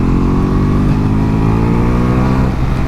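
A Ducati Multistrada V4S motorcycle accelerates hard in fourth gear, its V4 engine droning loud and close with a steady rising pitch, wind noise mixed in.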